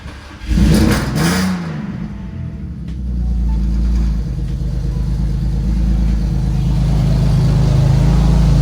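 A long-stored car engine cranks and fires up after fuel pump priming, rising in a loud rev before settling into a steady, rumbling idle that runs on close by, with no talk.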